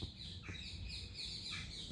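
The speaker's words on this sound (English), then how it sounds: "The parrots are squawking." Parrots squawk in quiet woodland, a run of faint, distant high-pitched calls repeating over a soft background hush.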